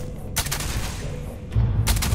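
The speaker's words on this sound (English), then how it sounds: "I just missed every single shot on that pirate." Gunshots fired at a pirate in Starfield: two short clusters of sharp, loud shots punch out about a second and a half apart over a low rumbling background, with no talking.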